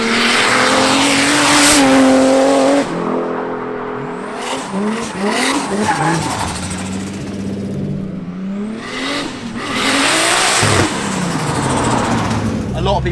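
Nissan Laurel drift car with an RB30DET Skyline engine revs hard, its roar rising and dropping through loud rev sweeps with squealing tyres, while people talk over the noise.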